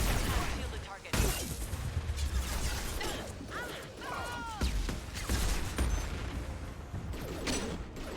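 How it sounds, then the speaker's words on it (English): Heavy gunfire in the video game Mass Effect 2: dense, crackling shots and shattering impacts under ongoing battle noise, with a voice talking through parts of it. "Heavy fire imminent."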